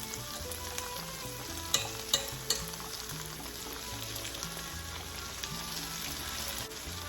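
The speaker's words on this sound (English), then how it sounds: "I mean, they're sizzling, but they're not screaming." Beans sizzle steadily in hot oil in a pan in a home kitchen, a dense close crackle running throughout with a few sharp pops and clinks near the middle.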